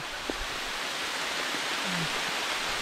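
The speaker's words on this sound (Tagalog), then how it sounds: "bigla na lang bumugso ang ulan" Sudden heavy rain pours down outdoors as a dense, steady hiss that fills the whole scene, with a few faint knocks beneath it.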